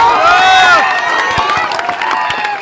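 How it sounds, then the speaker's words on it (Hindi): A crowd cheers and shouts loudly, with scattered claps rising through the noise, the voices blending into a sustained roar. "अब बजा लो ताली जितना जोर से बजाना।"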